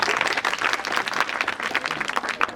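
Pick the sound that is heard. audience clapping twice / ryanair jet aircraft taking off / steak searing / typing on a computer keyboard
audience clapping twice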